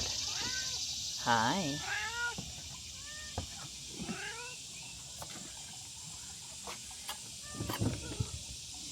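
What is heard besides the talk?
cats meowing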